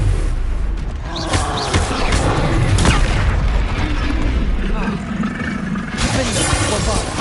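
A Bombarda spell blast in Hogwarts Legacy booms amid rumbling, mechanical game noise, with dense layered impacts running throughout and voices talking over the action.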